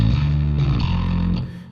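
A virtual bass guitar from a sampled rock library slides between notes, a distorted low tone bending in pitch and then fading out after about a second and a half.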